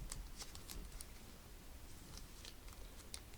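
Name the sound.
shuffling a deck of cards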